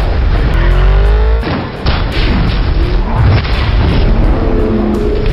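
A house filled with flammable gas explodes in a thriller film, a loud low boom followed by rumbling debris and crashing, dense and close, with no speech.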